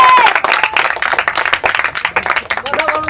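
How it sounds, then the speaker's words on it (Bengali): Brief burst of loud, close hand clapping from a small crowd at an outdoor cattle market event, with voices and shouts mixed into the applause. "ভাই একটা জোরে হাততালি হয়ে যায়"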